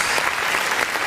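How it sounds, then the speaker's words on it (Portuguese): A church congregation claps in a dense, even burst of applause that stays fairly loud for the whole brief moment, with no voices rising above it. "Vamos aplaudir o nome do Senhor Jesus?"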